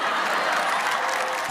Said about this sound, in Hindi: और इन्हीं तालियों के साथ मैं बुलाता हूं मेरी को एंकर को।